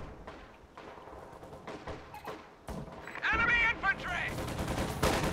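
In the Company of Heroes 2 strategy game, a .50 cal machine gun emplacement and other weapons fire in rapid bursts and a dense fusillade that grows louder toward the end, mixed with thuds and game effects.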